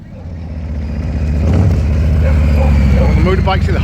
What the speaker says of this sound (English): There goes the Bentley.